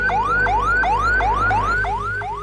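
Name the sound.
ambulance siren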